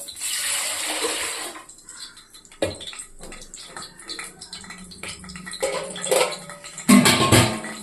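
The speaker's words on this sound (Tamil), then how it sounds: "தண்ணி ஊற்றிக்கலாம்." Water splashes and trickles into a metal pot on a stove for steaming idli, amid clinks and clanks of cookware, no voices.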